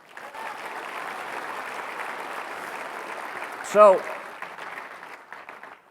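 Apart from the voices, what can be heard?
audience applause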